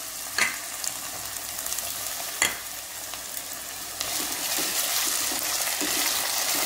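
Potatoes frying in hot oil with mustard seeds, asafoetida and curry leaves, a steady hissing sizzle with a couple of sharp stirring knocks early on, close and continuous, no one speaking.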